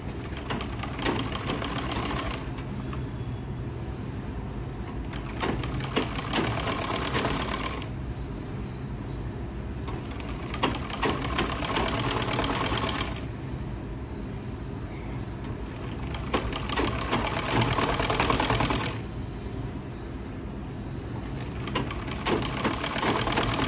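Domestic sewing machine stitching the neckline of a cotton kameez, a steady fast whirring motor and needle chatter running in long bursts separated by short pauses, close and continuous, with no speech.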